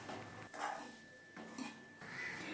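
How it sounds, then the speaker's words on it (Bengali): Semolina being stirred and dry-fried with vegetables in a pan, with three scraping, clattering bursts of spoon against metal separated by brief pauses, fairly quiet and close. "সুজিটাকে এবারে সবজিগুলোর সাথে মিশিয়ে নেব এবং 5 থেকে 6 মিনিটের জন্য"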